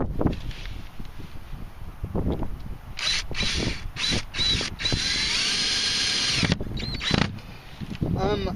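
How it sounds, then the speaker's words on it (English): A power drill drives screws into a PVC raised garden bed frame at the ends, several whirring bursts of a few seconds each separated by pauses, close by, with some background noise between runs. "I start screwing them together at the ends"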